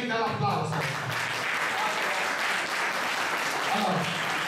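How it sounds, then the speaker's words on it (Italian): An audience at an official award ceremony for the Vittorio Minasi Memorial applauds, dense clapping continuing throughout with some voices and murmurs mixed in. "Questo è merita l'applauso"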